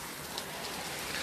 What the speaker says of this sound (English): the rain has finally came